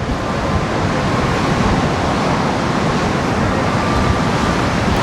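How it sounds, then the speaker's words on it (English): Huge waves breaking under strong wind at Benidorm on the Spanish coast, a loud, steady roar of surf and gusting air with constant broadband rush and no talking. "on the water sport platform, how huge the waves are currently"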